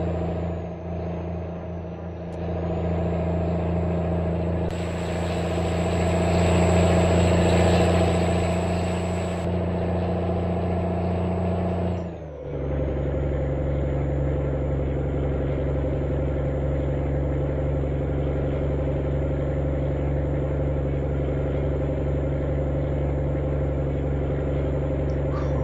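Deep, steady engine rumble of a DAF truck with a straight exhaust in a video game, droning continuously with a louder swell midway, a brief dip, then settling back into a constant idle-like roar.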